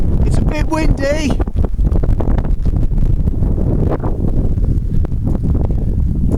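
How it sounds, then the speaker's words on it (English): Strong wind buffets the microphone across an open valley, a loud continuous roaring rumble with gusty surges throughout, with a brief vocal exclamation near the start. "It's a bit windy."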